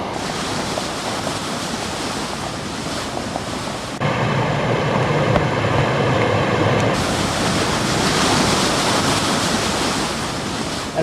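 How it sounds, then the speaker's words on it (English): Rainwater from a storm sprays out of a roof drainage pipe at a coastal Orange County home, a loud continuous rushing hiss that surges and thickens midway, then eases back. "That's the drainage pipe from the roof spraying out, I think."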